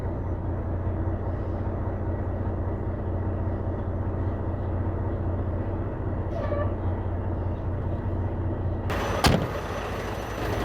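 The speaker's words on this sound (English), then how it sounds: "So I'm going to go ahead and back it up to the trailer." A semi truck backing up to a trailer, a steady loud diesel engine drone close by throughout, with a sharp metallic knock near the end.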